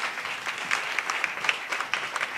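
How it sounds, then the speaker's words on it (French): Press conference audience applauding, a crowd of hands clapping steadily with some individual sharp claps standing out, moderately close and without talk. "Je crois que vous pouvez les applaudir très fort"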